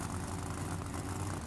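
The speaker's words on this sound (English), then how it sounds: "That low idle." A monster truck engine idles low and steady in the BeamNG driving game, a continuous deep rumble holding an even level throughout with no talking over it.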